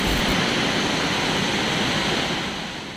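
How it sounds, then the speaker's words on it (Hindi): A roaring floodwater torrent of boiling, surging water, a loud, steady and dense rushing roar that fills the whole moment without any voices. "सैलाब की इस हाहाकारी आवाज को सुनकर कोई इसके करीब भी ना जाए"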